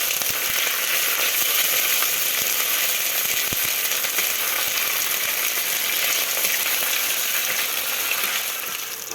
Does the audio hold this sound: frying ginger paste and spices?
yes